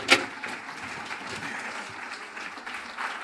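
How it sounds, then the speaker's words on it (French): An audience applauds a pastry chef's dessert demonstration at a culinary event, with a sharp initial clap followed by steady, moderately loud clapping from a small crowd lasting a few seconds. "Moi, je vous propose d'applaudir Christophe Felder pour ses pirouettes cacahuètes."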